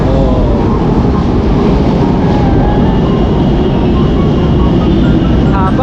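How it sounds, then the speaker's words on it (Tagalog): An LRT light rail train arriving at a station platform, a loud, steady rumbling roar with a high whine filling the whole stretch, with crowd noise around it. "meron ng LRT"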